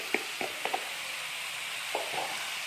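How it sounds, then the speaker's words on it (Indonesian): Young jackfruit curry (gulai gori) stirred in a pan over a steady sizzle, a few scattered scrapes and clinks of the utensil against the pan close by. "Kita kacau bentar, kita aduk."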